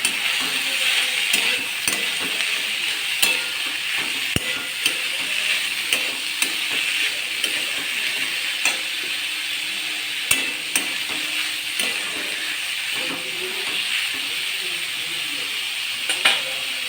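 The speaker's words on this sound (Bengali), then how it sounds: "লাউগুলো দিয়ে দেব" Chopped bottle gourd is stirred into moong dal and ginger frying in a pan, making a continuous hissing sizzle with repeated clacking, scraping stirs and occasional sharp knocks, and a little faint talk underneath.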